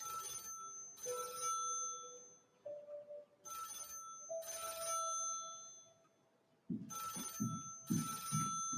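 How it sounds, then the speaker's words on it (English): A period telephone bell rings in repeated bursts, loud and close, with pauses between rings and brief low thumps near the end; no one speaks. "I need Betty to answer the phone."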